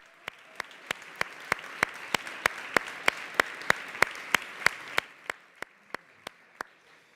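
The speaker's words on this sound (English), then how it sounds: "And a big round of applause here for all of us." Regular, evenly spaced claps ring out in an auditorium, about three per second, over a soft crowd wash. The claps swell in the middle and then thin out toward the end.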